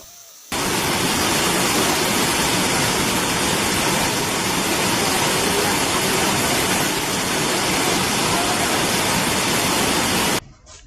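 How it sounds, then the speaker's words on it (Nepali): A 60-metre waterfall in Okhaldhunga, Nepal roars as a loud, dense, unbroken rush of falling water that holds steady throughout. "यो 60 मिटर अग्लो झरना हो।"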